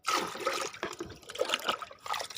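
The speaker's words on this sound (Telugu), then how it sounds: "నిండా పోసేస్తాను." Diluted liquid plant fertilizer for rose plants is poured to fill a container, giving a steady close splashing trickle of water with slight gurgling throughout.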